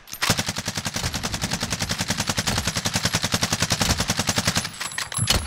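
Rapid sustained automatic gunfire in Call of Duty Warzone, a loud, close, evenly paced burst of shots lasting several seconds without pause, with no voices over it.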